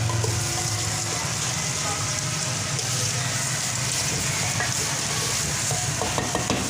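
Spice masala of chili, turmeric and salt with a splash of water sizzles in a pan while being stirred for a garlic curry, a constant close frying hiss with scraping stir strokes and small clinks.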